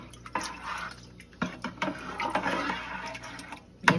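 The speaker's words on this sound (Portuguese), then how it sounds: "Aí eu quebro aqui mesmo no galão, né?" Cheese curd for queijo coalho, about 17 litres, is stirred and broken up in a gallon container, giving wet sloshing and swishing with splashy bursts and drips, close and fairly soft.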